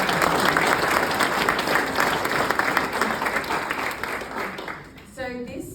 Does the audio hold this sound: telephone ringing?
no